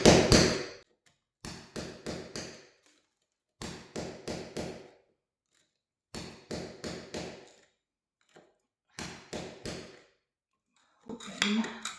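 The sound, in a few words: tapping with a small chisel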